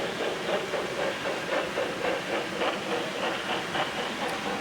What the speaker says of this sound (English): There goes the big engine once again, pulling Western Maryland